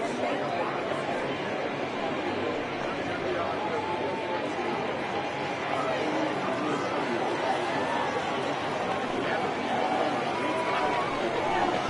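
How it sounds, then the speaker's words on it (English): Crowd murmur from a baseball video game after a batter is hit by a pitch, a steady, dense babble of many voices filling the background with no clear single speaker. "I can hear the crowd murmuring now, wondering if he hit him on purpose"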